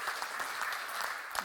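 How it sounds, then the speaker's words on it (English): Brief applause from an audience at a 5G innovation challenge pitch event, a dense steady patter of clapping close by with a faint voice underneath. "Big round of applause for Skyebase"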